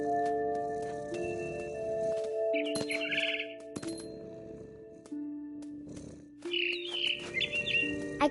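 A mama bird chirps in the video game What Remains of Edith Finch: two short bursts of bright tweets over steady tonal background music, fairly close and clear.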